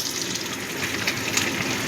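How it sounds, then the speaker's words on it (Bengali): Small mourola fish sizzle in a pan of hot oil, a continuous, close, fairly loud hiss with faint crackles and no talking. "এই পাশটাও একইভাবে একটু ভেজে নেব।"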